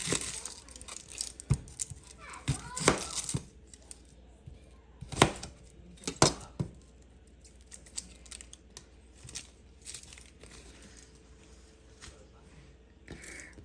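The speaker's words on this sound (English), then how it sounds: "I'm going to go ahead and cut my vegetables up and put them in here as well." A knife chops an onion and other soup vegetables on a cutting board, giving irregular crisp taps and clusters of quick chops at moderate loudness, with quiet gaps between them.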